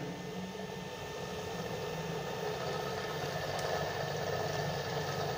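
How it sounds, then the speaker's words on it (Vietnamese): A three-phase 220V electric motor runs steadily clockwise, giving a continuous even hum with a faint whine at moderate level, with no pauses or talk over it. "thì động cơ mà nó chạy cùng chiều cái đồng hồ đó các bạn"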